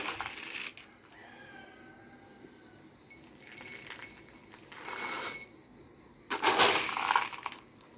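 Glass jars and bottles clink and knock together while being handled, with a couple of louder clattering bursts among quieter rattles, close by and with no talk.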